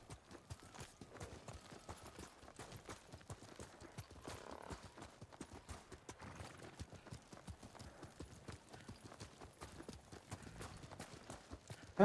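Quick, regular clip-clopping of horse hooves on a hard surface in a video game, a steady trotting rhythm that continues throughout at moderate loudness.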